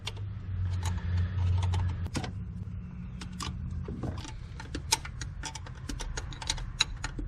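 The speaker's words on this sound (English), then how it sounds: "12mm to tighten these nuts up" A 12mm wrench tightens the nuts on a new Weber 32/36 carburetor fitted to a 1978 Toyota mini RV. A low hum gives way to a run of sharp, close metallic clicks and ticks in an irregular rhythm.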